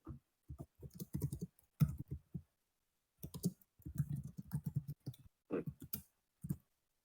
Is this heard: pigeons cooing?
no